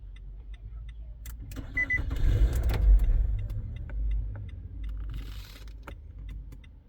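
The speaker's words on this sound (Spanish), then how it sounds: "nos manda a encender el carro" A Nissan Altima's engine is started after a faint jangle of keys, a low rumble building about two seconds in and settling into a steady idle.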